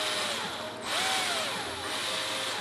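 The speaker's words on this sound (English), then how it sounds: "go ahead and put in my drill" A power drill spinning a bit to pre-drill a screw hole, a continuous whining motor hum that dips briefly and then rises again in pitch, close and loud with no speech.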